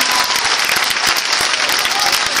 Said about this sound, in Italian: Ve l'avevo promesso un applauso